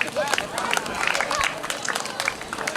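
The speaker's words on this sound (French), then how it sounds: "Je vous demande d'applaudir très fort" Audience applause for an honoree at a school excellence awards ceremony held at Marché Mboppi, a dense, steady patter of many hands clapping throughout, with crowd murmur and scattered voices mixed in.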